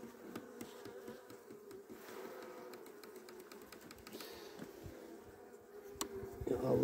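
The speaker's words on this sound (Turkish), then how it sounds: "Arı şu an ondan biraz gürültülü." A dense, steady drone of many honeybees humming together close up at the hive after a formic acid treatment, with a few sharper clicks and taps scattered through.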